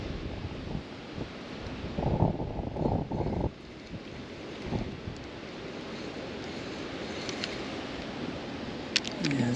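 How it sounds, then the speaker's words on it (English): Wind buffets the microphone while kayaking on the Fox River, a steady rough rumble with faint water lapping and a few paddle knocks, louder for a moment early on and then settling. "this wind's kind of blowing us all over"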